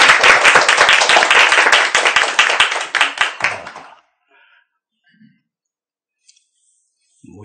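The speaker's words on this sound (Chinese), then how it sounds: "鼓掌。" A lecture audience claps together in dense, lively applause for about four seconds, then it tapers off into near silence.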